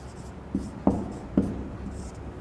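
Names being written on a board during a Hindi literature class: a few distinct chalk or marker strokes, about three to four short taps and scrapes, spaced irregularly over a quiet room background.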